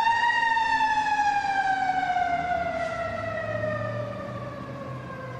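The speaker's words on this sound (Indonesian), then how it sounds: "yang pertama ini adalah truk pemadam kebakaran tuh" A wailing siren sweeps slowly downward in pitch, steady and fairly loud, with a thin electronic tone like a toy fire truck.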